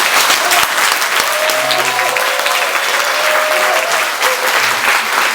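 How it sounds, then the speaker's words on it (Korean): An audience at a Korean traditional-music concert of Joseon-era poems set to song breaks into loud, sustained applause, a dense roar of clapping with a few voices faintly audible underneath. "다시 한번 박수"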